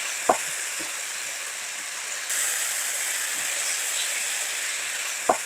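Eggplant stir-fried over high heat and tossed in sauce with chopped chili peppers, a steady loud sizzle with a few sharp clacks of a utensil against the pan.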